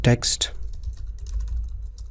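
A computer keyboard gets a short flurry of close, crisp keystrokes during a web coding lesson, a few quick taps clustered at the start followed by lighter clicks over about two seconds.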